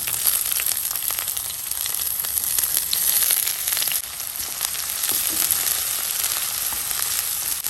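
Finely chopped garlic and onion fry in a pan for a tiffin-box egg rice, giving a steady, close sizzle with fine crackling and a few soft stirring sounds throughout.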